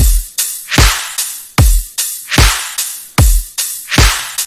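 Layered snare hits stacking claps and a rim shot, struck in a steady pattern of crisp, loud cracks about every 0.4 to 0.8 seconds, each with a sharp attack and short bright tail, with no voices.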